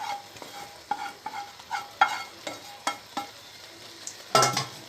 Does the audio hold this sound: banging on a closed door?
no